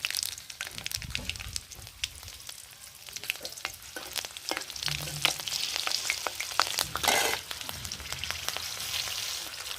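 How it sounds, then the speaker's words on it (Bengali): Kalonji seeds and green chillies tempering in hot oil in a kadai for Bengali tangra fish tel jhal, a continuous loud sizzle and crackle with stirring scrapes throughout. "তেল গরম হয়ে গেছে, ফোড়ন দিয়ে দেব।"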